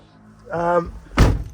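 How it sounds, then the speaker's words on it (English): The door of a McLouis Fusion 331 motorhome shuts with a single solid, close thunk, just after a brief voiced sound. "I'll just close the door."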